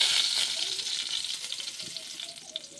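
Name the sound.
bay leaves sizzling in hot oil in a wok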